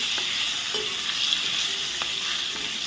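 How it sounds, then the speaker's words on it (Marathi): A sizzling spice tempering for kadhi, with green chillies and curry leaves in hot oil, keeps a loud, steady hiss while a spoon stirs it, with soft scraping taps against the pan. "हे फोडणी मी जरा ढवळून घेते"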